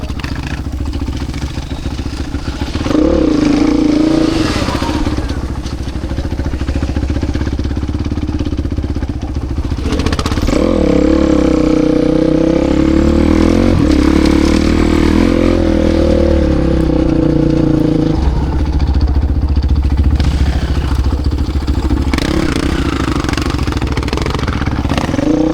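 A motorcycle engine idles loudly and close, then revs up with throttle in two long sustained pulls, pitch rising and wavering before settling back to a rumbling idle.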